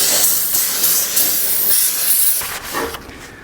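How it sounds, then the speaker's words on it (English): Brake cleaner sprayed onto a new rear brake rotor on a Toyota Tundra, a loud, close, continuous aerosol hiss that tapers off near the end. "I'm gonna go ahead and clean this surface with some more brake clean"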